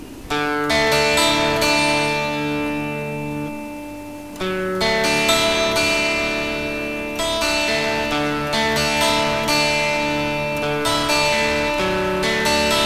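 An electric guitar runs through a Boss DS-1 distortion pedal with the knob at nine o'clock, ringing distorted chords and picked notes that sustain and decay, loud and close with a brief dip around the fourth second.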